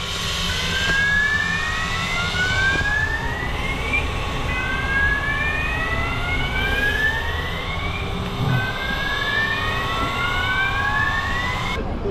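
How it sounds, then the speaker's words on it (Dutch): Fire alarm sounding during an evacuation of an Albert Heijn supermarket after a CO2 alarm, a repeating rising electronic whoop tone cycling steadily about every two seconds over a constant loud background roar, with no talk. "Daardoor gaat het brandalarm af."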